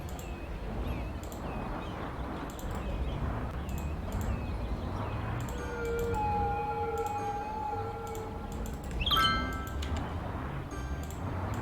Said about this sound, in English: That was a horrible sound of a siren.